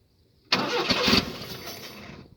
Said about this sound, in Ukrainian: І зараз заведемо, послухаємо роботу двигуна щеплення.